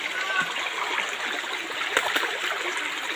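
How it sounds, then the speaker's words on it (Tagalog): Mountain stream water on Mount Makiling rushes and burbles steadily over rocks, a continuous close splashing wash. "Ito yung tubig dito sa Makiling."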